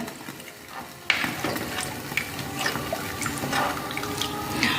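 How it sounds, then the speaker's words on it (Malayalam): Hot water being poured into a pan of Kerala-style tuna fish curry: a soft, continuous splashing and gurgling pour that swells after the first second and carries on to the end. "ആ ചൂടുവെള്ളം അതിലോട്ട് ഒഴിക്കുക."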